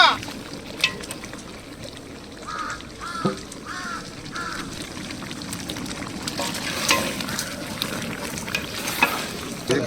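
Chicken for coriander chicken roast fries in a pan with a steady sizzle under people talking, while crows caw a few times in the background.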